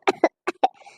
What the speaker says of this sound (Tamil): அத்தை என்ன சொன்ன உடனே இருமல் வருது? பொய் இருமலோ?